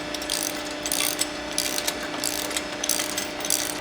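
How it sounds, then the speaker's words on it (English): Traction board mounts are tightened onto Sherpa window panels with a ratchet, giving a steady, close stream of rapid clicking from the pawl. "and then we'll tighten everything down"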